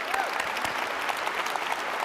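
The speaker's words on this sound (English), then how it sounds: "let's give them a big round of applause" A crowd at Cleveland's 2025 State of the City address gives a round of applause, a brisk, full burst of many hands clapping close to the microphone.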